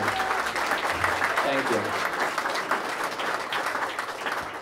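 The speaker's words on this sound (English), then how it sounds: "please give him a round of applause, him and his family" Applause for a mayor at a Red Bank Valley chamber of commerce gathering, a steady dense clapping from a room full of people throughout, with a brief spoken thanks over it.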